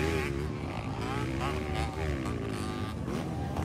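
Enduro motorcycle engine from a local final heat in Poblacion, Quezon, droning continuously with wavering pitch as it revs, loud and steady, mixed with a commentator talking over a crowd.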